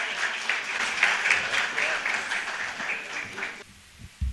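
Audience at a tribute concert applauding to welcome the musicians, a dense sustained burst of many hands clapping that cuts off abruptly near the end, followed by a brief quiet thump.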